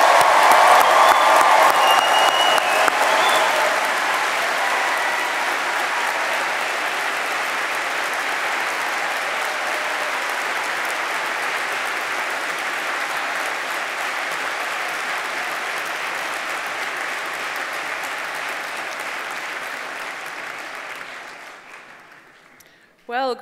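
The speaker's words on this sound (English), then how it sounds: "I'd like to bring this vote of thanks to a close with the loudest applause of the afternoon for the graduates of" Loud, sustained applause from a crowd honoring graduates at a university graduation ceremony, a dense roar of clapping that holds steady for about twenty seconds before fading out, with a brief sound at the very end.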